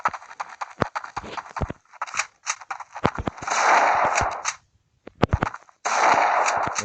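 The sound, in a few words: gunfire in video game CS portable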